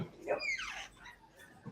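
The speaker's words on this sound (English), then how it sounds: "my dog's barking behind it" A dog gives a single faint, whiny bark from somewhere behind the room, distant and soft against low background noise.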